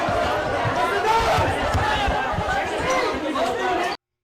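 Agitated crowd shouting and chattering inside the Senate building during an armed intrusion, a dense, loud, continuous babble of many voices without pause.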